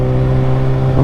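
A Jeep engine accelerates loudly and close, a steady drone that climbs in pitch at the end as it revs up.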